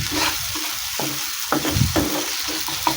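Spices being stirred with turmeric water in a frying pan for posto katla, a Bengali catla fish dish with poppy seed, giving repeated scraping stirs over a steady close sizzle, with no talking.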